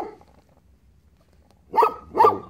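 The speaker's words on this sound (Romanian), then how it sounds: "un vecin cu un câine de pe afară și a început să latre. Uitați cum latră." A neighbour's dog outside gives two loud, clear barks in quick succession, moderately close, after a near-silent stretch.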